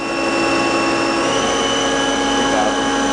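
Fryer CNC vertical machining center with 24-tool changer, spindle turning at 1500 RPM, giving a steady, loud whine with sustained high tones over a constant mechanical hum.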